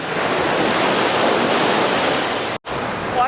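Ocean waves break on a Hawaii beach near the Kaloko fish ponds and Honokohau Harbor, a loud, close, continuous surf roar with wind buffeting the microphone, briefly cut by a sudden dropout near the end.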